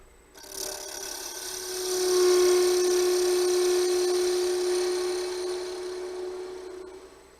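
A gouge cutting wood on a woodturning lathe gives a steady, sustained scraping hiss with a tonal hum from the spinning stock, heard up close and alone for several seconds.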